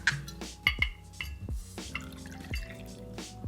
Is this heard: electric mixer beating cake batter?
no